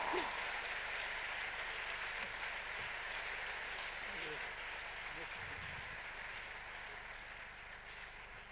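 Audience applause at the opening ceremony of a film festival, a steady, fairly faint wash of clapping that holds throughout, with a voice briefly heard underneath.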